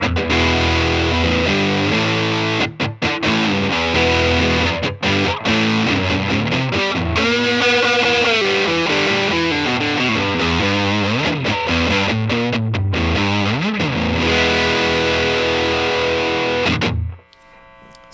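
Electric guitar played through a RAT distortion pedal at a classic stock setting, loud fuzzy distorted chords and sliding riffs with thick sustain, ringing continuously for about seventeen seconds before cutting off abruptly.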